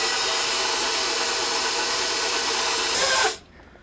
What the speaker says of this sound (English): I'm going to put my machine on number 2 and start working in the flour.